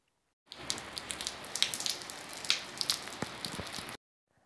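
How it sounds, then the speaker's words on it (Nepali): Heavy rain falls in the Kathmandu Valley, with a dense, steady patter and sharper individual drops striking a nearby surface, heard alone for about three and a half seconds. "अहिले नै यस्तो धेरै बर्खा सुरु भएको जस्तो भइरहेछ, पानी ठुलो परिरहेछ।"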